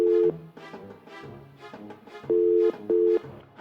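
Telephone dialing and ringing signal: short steady tones interrupted by gaps, with a rhythmic pattern typical of a phone line connecting, heard clearly with some background music underneath.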